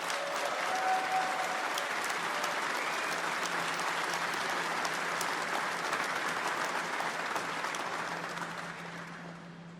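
Sustained applause from an audience honoring the Falcon, launch and manufacturing teams, a dense steady wash of many hands clapping at fairly even loudness for nearly ten seconds, fading slightly at the end.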